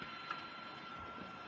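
A Brother DCP-2541 printer initializing for a copy gives off a faint, steady mechanical hum with a thin whine running through it, heard alone for a short moment.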